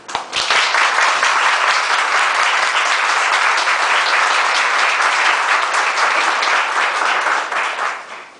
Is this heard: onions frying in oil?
no